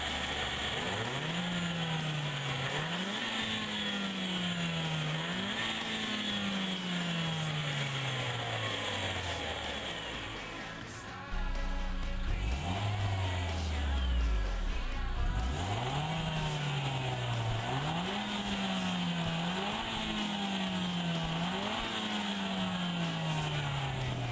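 The 1.6 THP turbocharged engine of a Peugeot 308 GTi 200 accelerates hard through repeated gears. Its rising engine note drops sharply at each upshift, with a brief lull before it pulls again. It is loud, heard from inside the car, with no talk.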